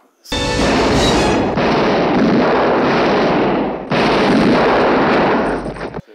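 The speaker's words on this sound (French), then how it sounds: "Et là, il y a quelques coups de feu" Dense, loud bursts of gunfire in a western film roar continuously, breaking off briefly midway before resuming, then cutting out abruptly.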